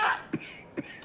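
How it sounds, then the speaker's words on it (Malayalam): Two short, sharp coughs from a man in a Malayalam movie hospital scene, spaced about half a second apart, following a brief burst of other sound at the start. "ഡോ ഇങ്ങനെ ചുമക്കാതെ"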